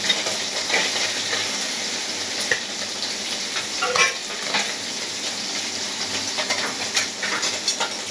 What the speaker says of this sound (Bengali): মাছটা কড়া কড়া করে ভাজবো একটু।